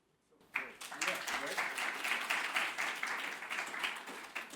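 Audience applause at a symposium breakout session on open science, clapping that starts abruptly after a brief quiet moment and continues steadily from a modest-sized room.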